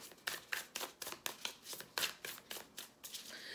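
Tarot cards are shuffled close by in a quick, steady rhythm of soft riffling flicks, about a dozen in a row.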